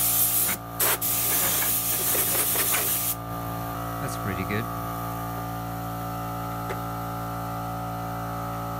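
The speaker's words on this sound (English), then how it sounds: "I do not have replacement, so we'll just blow it with air" Compressed air blasts out a dirty air filter from a John Deere D140 ride-on mower, a loud broadband hiss lasting about three seconds before dropping to a low steady hum with faint handling noises.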